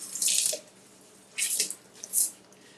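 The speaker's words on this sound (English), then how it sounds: "I'm going to put this underneath some water and squeeze it out." Tap water splashing over a paper towel at a kitchen sink in three short bursts, the first longest, with quiet pauses in between.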